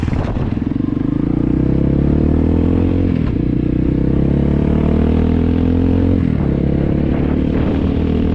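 Motorcycle engine running loud and close, revving with clattering mechanical noise and dipping pitch as it pulls away, steady throughout with no talk.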